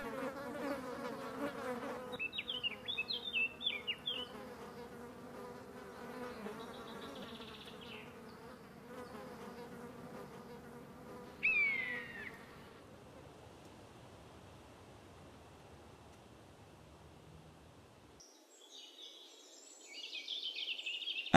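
A swarm of flies buzzes around a dead badger outdoors in the Apuan mountains. The droning is faint and steady, with brief louder passes of single insects.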